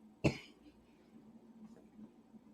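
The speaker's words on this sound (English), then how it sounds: "Excuse me, I have a cough." A single sharp cough near the microphone, followed by quiet breathing and faint room noise.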